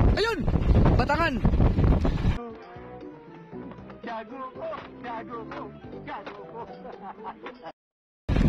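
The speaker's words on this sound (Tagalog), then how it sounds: "malakas ang hangin ha" Strong wind buffets an outdoor microphone at a seaside fishing spot, a loud rumbling gust at first, then a lower steady rush under voices talking.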